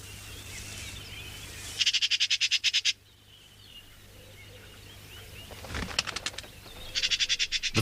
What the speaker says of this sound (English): Common magpies feed on any scraps left on the ground.